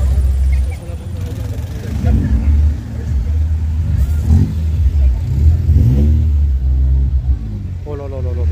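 A BMW microcar engine revving at a large outdoor car and motorbike meet, a low rumble rising and falling in several pulls, with crowd noise and voices around it.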